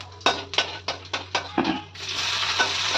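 Urad dal, mustard seeds, cumin and chana dal frying in hot oil, with repeated stirring scrapes and clinks of a spoon against the pan. The sizzle thickens into a steady crackle toward the end, close up and without talk.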